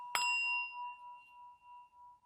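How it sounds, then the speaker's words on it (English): A single meditation bell is struck once, a clear bright ding that rings on as a long, slowly fading tone in an otherwise quiet room. "I will ring the bell after we finish it"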